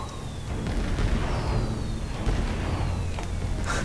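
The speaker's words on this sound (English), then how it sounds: "Space-defying fireworks." Fireworks burst in the space game Star Trek Online, a dense rumbling run of booms and pops with faint whistling streaks rising above, loud and continuous with no voices.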